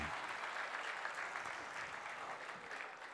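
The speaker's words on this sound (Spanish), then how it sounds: "El aplauso fuerte para Hermilo Carmona Niceto y Ninfa" An audience at a collective wedding ceremony in Boca del Río applauds a couple married 45 years, steady moderately loud clapping throughout.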